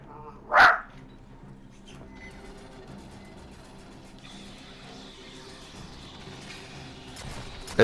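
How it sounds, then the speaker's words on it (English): A single loud dog bark bursts out near the start over a quiet background of video game sounds and music, then fades back to steady game noise. "Excuse my dog there."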